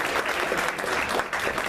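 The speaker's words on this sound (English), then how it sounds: "Round of applause for everybody" A panel discussion audience claps in a brief, lively round of applause, dense and close, with uneven bursts over under two seconds.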